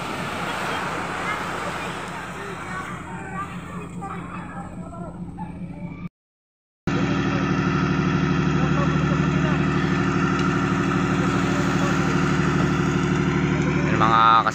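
A tractor engine idles with a low, steady rumble, cutting out briefly and then returning louder and continuous, with faint voices underneath, as it is set up to haul a boat ashore.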